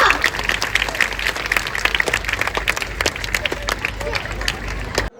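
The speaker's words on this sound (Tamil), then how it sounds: "அரங்க மதுர பாராட்டுகளை கைத்தட்டல் வழியாக தெரிவிக்கலாமா?" A hall audience applauds steadily after a children's western dance performance at a dance school annual day, a loud, sustained wash of clapping with crowd murmur mixed in.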